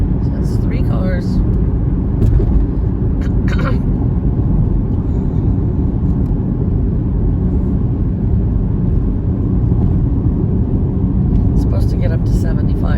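A car passes on the road under sunny weather, a steady broadband rumble of tires and engine dominating throughout, with a few faint higher sounds intermittently on top.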